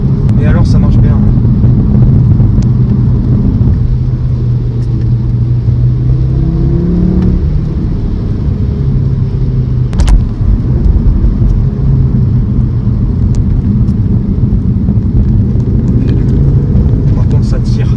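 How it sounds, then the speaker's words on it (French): An Audi RS Q3's five-cylinder engine accelerates on a driving course, its revs rising and falling through the gears in a steady loud drone, with someone talking over it inside the car. "Ah puis le 5 cylindres chante bien."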